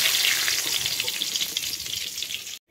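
Potatoes fry in hot oil for hilsa biryani, a dense, bright, continuous sizzle heard close up and fairly loud, cutting off abruptly at the end with no voices.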